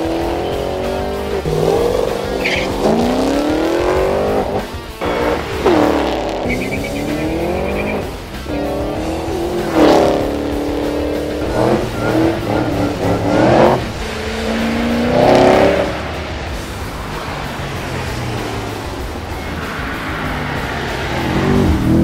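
A supercharged muscle car, the most powerful of a tuner group, drives hard on a wet track, its engine revving up and down through gears with a loud, close, continuous roar and whine.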